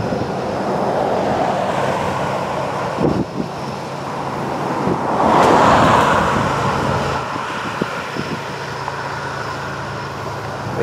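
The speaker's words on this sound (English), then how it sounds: "Facing right into the wind as we watch them." Constant wind buffeting a microphone outdoors beside railroad tracks, a broad steady roar with a few gusts and faint thumps, no talking.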